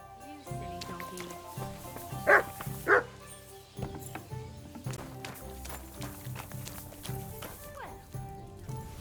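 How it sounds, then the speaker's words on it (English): A dog barks twice in quick succession in Kingdom Come: Deliverance II, fairly near, amid game background sounds, footsteps and hoofbeats, with speech around it. "You silly doggy."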